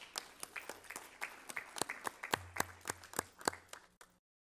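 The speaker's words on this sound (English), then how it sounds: "Let's give her a round of applause." Scattered applause from a small audience at a school board meeting, individual claps distinct and fairly quiet, building slightly before stopping abruptly.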